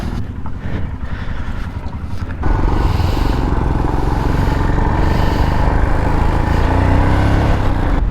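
Royal Enfield Himalayan motorcycles pull away toward the mountains, a steady engine drone rising sharply after a couple of seconds into a loud continuous roar mixed with wind rush.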